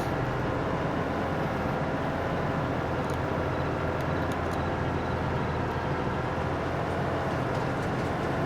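A train in Farming Simulator 22 rolls past nearby as a loud, continuous low rumble, with faint metallic clicks partway through.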